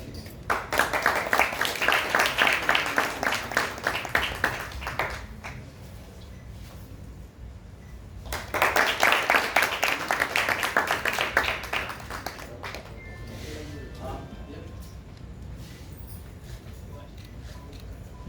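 Two long bursts of audience applause welcome a guest at a stage event in Lucknow, loud, dense clapping from a crowd, separated by a quieter gap with faint murmuring.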